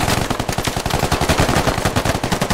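Rapid automatic gunfire in the military shooter game Squad rattles in a fast, continuous burst of sharp, loud shots, with no voices over it.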